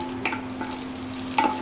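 Cashews fry in a pan with ginger paste, a soft steady sizzle broken by a few scraping stirs of a spoon, close and moderately loud, with no talk.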